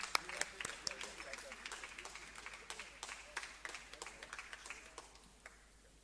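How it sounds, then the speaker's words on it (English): Light, scattered applause from a modest audience for a panel at a Sri Lanka women's T20 World Cup team sponsor and jersey launch event, a soft ripple of claps that thins out toward the end. "A very good round of applause to the panel"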